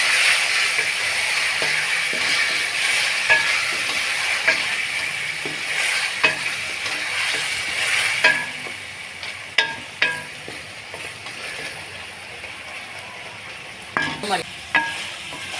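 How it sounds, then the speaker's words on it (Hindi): Minced meat keema sizzles with onions in a pan, a steady frying hiss broken by repeated sharp scraping clicks of a spoon stirring, close and moderately loud. "अच्छे तरीके से आपने कीमे को फ्राई करना है।"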